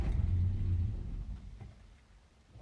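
A 1986 Mazda B2000 engine catching on a cold start, a loud low rumble for the first second that settles into a steady, quieter idle and swells slightly again at the end.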